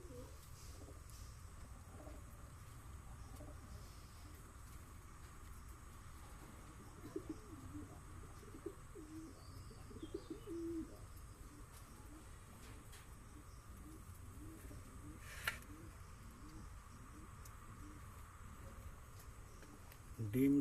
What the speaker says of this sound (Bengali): শখ করুন, খুবই সুন্দর কোয়ালিটির পায়রা আছে।